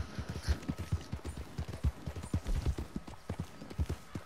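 Horse hooves clip-clop in the Red Dead Redemption 2 online game, a quick, steady run of close, crisp hoofbeats heard alone with a faint background hum.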